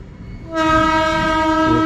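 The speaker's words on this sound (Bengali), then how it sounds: "অনেক বড় মালগাড়ি তো। কটা বগি আছে গোনা হলো না।" A long Indian Railways freight train loaded with coal sounds a loud, sustained horn as it approaches, the blast cutting in suddenly and holding steady over low rumbling wheels.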